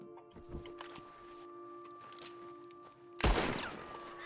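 Gunfire in Red Dead Redemption 2 as something is shot open: a few faint cracks early on, then one loud, sharp shot near the end over a low game hum.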